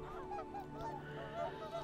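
Geese honk faintly in the video game Settlement Survival, soft repeated calls under a steady background of game ambience and music.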